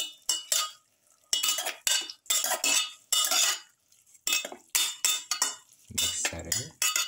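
A spoon stirs a spice mixture in a bowl for chicken and potatoes, with repeated scraping and clinking strokes in bursts separated by brief pauses, close and fairly loud.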